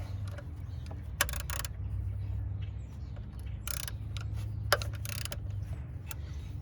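Working on a 2007 Cadillac DTS, a ratchet with a 13mm socket loosens the power steering reservoir bolt, producing quiet bursts of rapid clicking and a couple of sharp metallic knocks against a low background hum.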